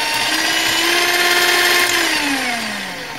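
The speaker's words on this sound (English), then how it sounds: "spins those beaters quite quickly, and it doesn't have a whole lot of power" Ambiano ALDI cordless hand mixer running its beaters at speed, a close, loud, steady motor whine that holds briefly and then starts to wind down.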